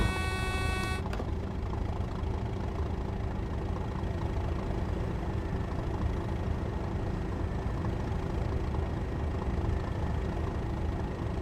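A steady, droning Class 37 diesel locomotive engine hum in Train Sim World, hauling an electric train on the Southeastern High Speed line, with a constant low throb, preceded by a brief tonal horn-like sound at the very start.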